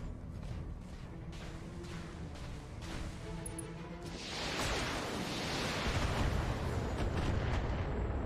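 Long-range missile turret fire in the BattleTech video game: a steady rumbling barrage that swells into a loud, dense roar of launches and impacts, with no talking.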